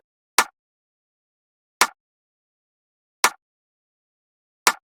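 A dry rimshot cracks four times at a steady, spaced tempo in a sparse beat, each hit sharp and short with silence between and nothing else playing.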